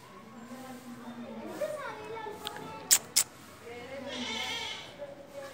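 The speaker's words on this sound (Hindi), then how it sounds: "इधर किसी की बकरी है" Goat bleating in an outdoor village setting, several wavering calls spread across the clip, fairly close, mixed with children's voices and background chatter.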